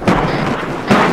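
Loud, close gunfire in a military video game session, with two heavy broadband blasts, one at the start and one near the end, over a constant dense din of battle noise.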